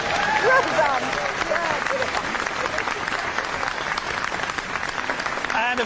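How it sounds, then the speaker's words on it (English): A studio audience at a live ghost-hunting broadcast applauds a guest, steady close clapping from many hands throughout, with a voice briefly audible near the start. "Round of applause, please."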